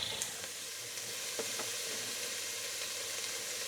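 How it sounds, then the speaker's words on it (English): Garlic sizzles in a pan of sofrito for split pea and ham soup, a steady soft frying hiss with faint stirring clicks, fairly quiet and continuous with no talk. "Okay, now I'll add the garlic."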